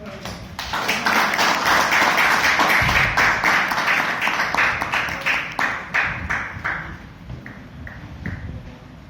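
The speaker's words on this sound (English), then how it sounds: "please have a big round of applause for Ravi" Audience at a Toastmasters club meeting clapping for the next speaker, starting with scattered claps, building to a loud, dense round, then thinning out to sparse individual claps toward the end.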